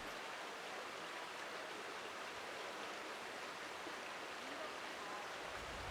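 Mile Brook, a small tributary of the Black River, flows in a steady, even wash of rushing water with no pauses, moderately close and uninterrupted throughout.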